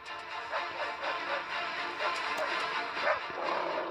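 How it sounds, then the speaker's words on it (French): A pack of dogs attacking sea lions yaps and barks in quick, repeated bursts, mid-distance over a rough background, with some whimpering yips mixed in. "Les chiens attaquent les otaries."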